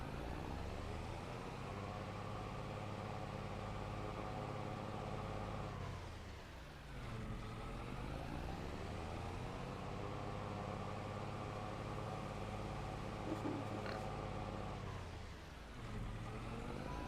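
Tractor engine in the farming video game Farming Simulator 25, a steady low droning hum with harmonic tones that dips and swells twice as it revs down and back up, with no talking over it.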